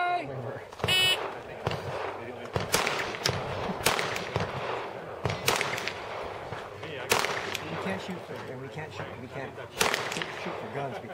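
Glock pistol gunshots at an outdoor GSSF shooting match in Piru, California: sharp, loud reports fired in quick succession with irregular pauses, over crowd chatter and range noise.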